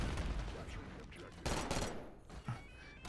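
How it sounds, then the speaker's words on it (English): Kompakt-92 three-shot burst gunfire in a video game, sharp grouped shots cracking out in a few bursts over a noisy background, with someone talking between them. "I'm just going to continue to shoot"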